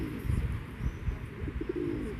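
Low, soft pigeon coos repeat in a murmuring rhythm close by, with faint outdoor background noise, in Zhytomyr, Ukraine.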